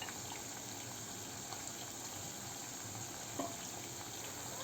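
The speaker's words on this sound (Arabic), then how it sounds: "هلا بينما هون ينقلي البصل" Onion frying in a pan gives off a steady, even sizzle that continues unbroken throughout, with no one talking.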